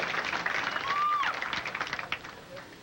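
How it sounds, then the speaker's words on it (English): Crowd at Golden Pin Lane cheering and clapping during a 1986 PBA Miller Lite Challenge bowling match, a steady roar of applause and whistles with an announcer's voice over it. "Husted has the crowd riled up here at Golden Pin Lane."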